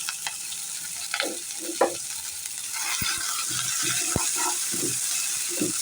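Green chili pieces and chopped onion fry in a pan for a cucumber-onion curry, a steady broad sizzle running throughout with scattered clicks and scrapes of a spoon stirring, no voices.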